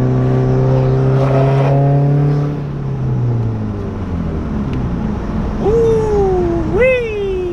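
A Subaru WRX engine hums steadily from inside the vehicle after intake carbon cleaning, its pitch dropping as it slows, then rising again with brief revving as it accelerates.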